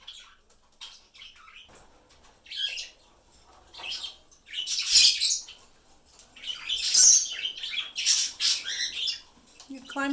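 Parrots and parakeets in an indoor bird room give bursts of harsh squawks and chirps, loud and close, with quieter gaps and rustling between calls and a person talking softly at times.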